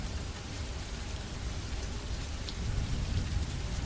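Steady rain falls as an even, dense hiss with soft low rumble, constant throughout and faint overall, with no voices.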